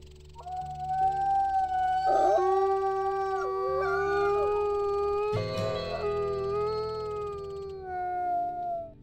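A wolf in the video game WolfQuest 3 howls loudly and at length, a sustained, wavering tonal cry that holds for several seconds, joined by overlapping howls partway through.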